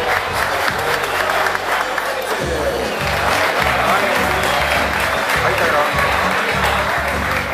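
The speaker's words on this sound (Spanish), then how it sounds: "Fuerte los aplausos." A crowd applauds and cheers at the awards ceremony of a catch-and-release fishing tournament in Pilar, Paraguay, with loud, sustained clapping throughout and a voice talking over it.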